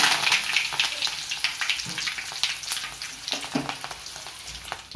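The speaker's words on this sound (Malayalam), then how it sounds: "അപ്പോൾ അതാ കടുക് പൊട്ടി വന്നിട്ട് നമുക്കിത് പച്ചമുളകും കറിവേപ്പിലും ഇട്ട് കൊടുക്കാം" Green chilies and curry leaves sizzle and spit in hot coconut oil with popped mustard seeds for a lime pickle tempering, a loud, crackly, close frying hiss with frequent sharp pops throughout.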